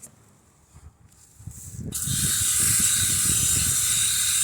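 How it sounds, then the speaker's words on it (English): Vanish cleaning chemical sprayed once by a gloved hand. A soft hiss starts after a quiet, shuffling moment and then holds as a loud, steady, breathy spray sound to the end. "One spray with my hand that's in a glove."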